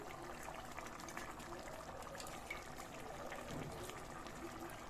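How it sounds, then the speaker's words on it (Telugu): Water from a glass pours into a pressure cooker of mutton and rice for biryani, a soft, steady trickle held at low level for several seconds with no talk. "నేను ఒక గ్లాస్ వాటరే పోసుకుంటానండి"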